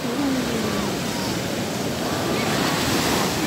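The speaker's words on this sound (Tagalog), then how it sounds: "Kinakain ako ng alon ah." Ocean waves crash on the beach at Sitio Liwliwa in San Felipe, Zambales, near high tide. The roar of surf is loud and continuous, with wind buffeting the microphone throughout.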